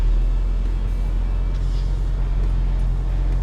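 A GMC Canyon pickup engine labours steadily while climbing a rock wall off-road, a loud, continuous low rumble close by with no break.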